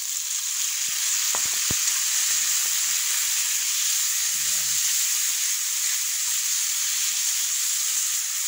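Onion and tomato sizzling while frying in a pan, a steady, even hiss that holds for the whole stretch, with a few faint clicks and light scraping sounds partway through.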